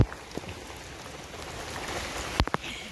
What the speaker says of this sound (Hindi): ये देखो बारिश आ गई फुल